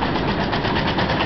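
A small tractor drives past below an apartment rooftop in Sunchang, South Korea, its engine a steady, rumbling drone that holds even and fairly loud throughout the short stretch.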